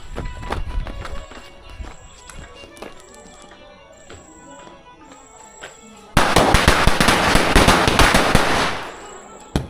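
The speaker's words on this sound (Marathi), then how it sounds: "मित्रांनो फटाके वाजून झालेले आहेत" Diwali firecrackers burst outdoors at night, starting with scattered sharp cracks and pops, then breaking into a dense, loud volley of rapid explosions for several seconds before tapering off.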